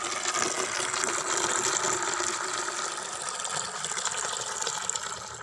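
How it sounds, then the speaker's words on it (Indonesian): Water gushes and pours steadily from a tap into a container to measure ten liters for mixing cucumber fertilizer, a continuous close splashing rush with no talking. "Kita siapkan airnya karena takarannya ini 10 liter ya teman-teman"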